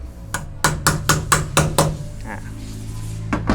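A hammer strikes a lead wheel-balancing weight onto a wheel rim in a quick series of sharp, ringing blows, about seven hits close by, then a pause and a couple more taps.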